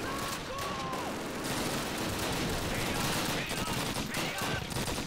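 Sustained gunfire in the WWII shooter Call of Duty: United Offensive, a steady fusillade of rifle and MP-40 submachine gun shots with distant battle noise, continuous and moderately loud throughout.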